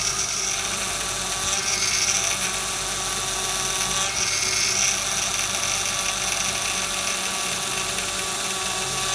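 A failing power steering pump on a Honda Odyssey whines constantly at a high pitch while the steering wheel is turned from side to side. The whine is loud and steady, with a faint hiss underneath.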